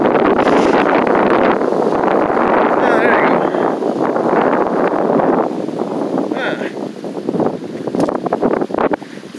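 Strong wind gusting outdoors, buffeting close and loud as a rough roar that eases slightly partway through, with a voice speaking briefly over it.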